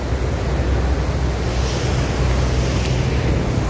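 Sea surf rolls onto a roadside beach on Java's southern coast, a steady broad wash of waves with wind buffeting the microphone, continuous and fairly loud.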